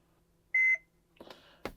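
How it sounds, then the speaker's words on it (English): A single clear electronic beep from a Mercedes-Benz Sprinter 2500 instrument cluster, sounded after a dash button is held down, followed by a couple of soft clicks and handling knocks in a quiet interior. "Hold it for about 20 seconds or until you hear a beep."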